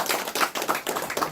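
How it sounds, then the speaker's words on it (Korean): Lecture audience clapping for a speaker at a Korean studies talk, a brief burst of closely spaced, fairly near hand claps in an uneven rhythm. "다시 한번 이병헌 박사님께 큰 박수를 보내드립니다"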